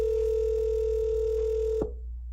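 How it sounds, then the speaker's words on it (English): A telephone call tone sounds as a steady, loud electronic hum from a live show's phone line, then cuts off abruptly near the end, leaving near silence with no talking. "You got that ringing, Kale?"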